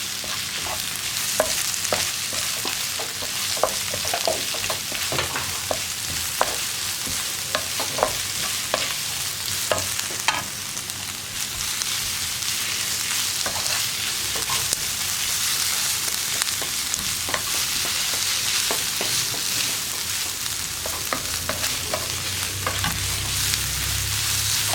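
Capsicum frying in a pan with salt and pepper, stirred steadily with a spatula: a dense continuous sizzle broken by frequent clicking scrapes of the utensil against the pan, close and fairly loud, with no talking.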